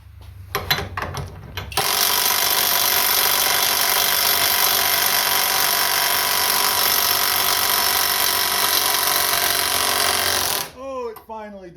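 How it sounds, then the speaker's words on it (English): Alloyman 20V brushless half-inch cordless impact wrench loosening a nut, firing in one sustained loud rattling hammer for about nine seconds, close up, with brief clicks before it and a voice starting to speak right after it stops. "let's see if Hercules can loosen that"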